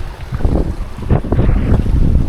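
Strong wind buffets a sailboat at sea in the Ionian, a loud, close rushing roar with gusting microphone rumble and faint water wash, no speech.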